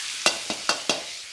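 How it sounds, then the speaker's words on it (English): Garlic stir-fried in a hot wok for Hokkien mee, with a steady sizzle broken by four quick, rhythmic scraping stirs close up. "In goes my garlic."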